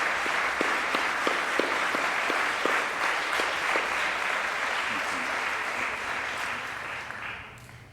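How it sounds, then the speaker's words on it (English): A large university graduation audience applauds families and friends in a long, steady round of clapping in a hall, with a few louder individual claps early on, fading out at the end. "And to join me in applauding the families and friends who've helped them along the path to this graduation."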